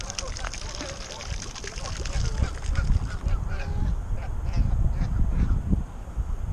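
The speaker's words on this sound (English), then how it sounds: "The geese are laughing at us over there." Geese honk repeatedly at a pond or lake, a busy cluster of calls heard at a middle distance, with people talking close by.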